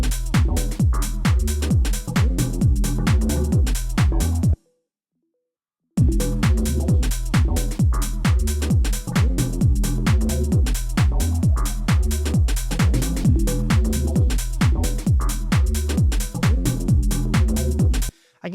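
Bouncy minimal house synth layer played on the E key, a steady rhythmic pattern of short plucky stabs over bass, with a brief silent break partway through before the loop resumes.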